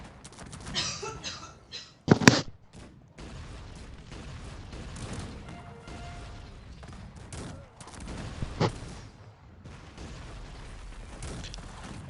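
A cannon volley in Cossacks 3 bursts out as a short, sharp cluster of booms, followed by a continuous low battle rumble with scattered mechanical clicks and a later smaller report.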